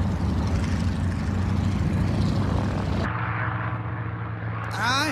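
A Stearman propeller biplane roars loudly as it takes off from an airfield, its steady close engine drone shifting in tone partway through before swelling again at the end.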